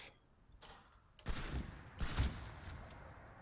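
Several booming Gauss shotgun blasts from Fallout 76, firing in quick succession with echoing tails, loud and alone with no talk.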